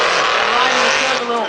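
A twin-turbo V8 Nissan S15 drift car roars loudly and continuously through a corner with tyre squeal layered over the engine, close and intense throughout the short burst.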